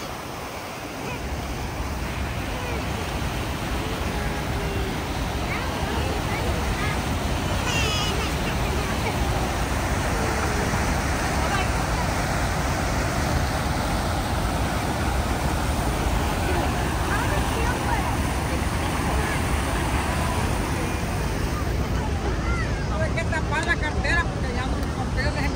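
Water roars steadily at a waterfall on the New York–Canada border, with wind mixed in, a loud continuous wash filling the whole clip while people talk faintly in the background.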